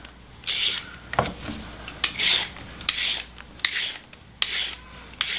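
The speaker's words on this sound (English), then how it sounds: "Carrots next. Peeling them." Carrots being peeled with a peeler, a series of quick rasping scrapes in an uneven rhythm, close and fairly loud with no talking.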